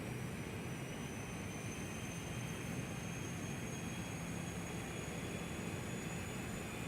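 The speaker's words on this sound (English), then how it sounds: "And now the engine is starting." A HotStart Challenger 650 business jet engine starting up in the X-Plane 12 simulator gives a steady, even roar with a thin high whine running through it, holding constant throughout.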